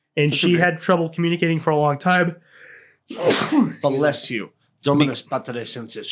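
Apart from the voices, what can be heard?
sneeze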